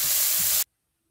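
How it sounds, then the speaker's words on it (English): Garlic and pork dropped into hot oil for fried rice produce a loud, dense hiss that cuts off abruptly into near silence after about half a second. "When the oil is hot, put the garlic and the pork in."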